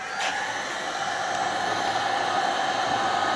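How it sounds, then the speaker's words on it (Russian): A construction heat gun blows steadily into the firebox of a pellet stove, a constant loud hissing whoosh with no pauses from start to end. "Берем строительный фен."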